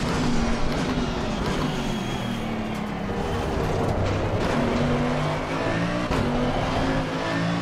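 A GT2 race car's engine in the racing game Assetto Corsa Competizione drones steadily at high revs, its pitch rising and shifting through gear changes as the car keeps accelerating with no voices present.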